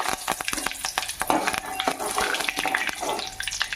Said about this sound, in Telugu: దాంట్లోకి మనం పచ్చిపప్పు, జీలకర్ర, ఆవాలు వేసుకున్నాను.